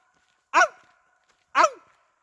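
A human voice imitates the high-pitched barking of a bird or fox, two short sharp yelps about a second apart, close and loud, with silence between.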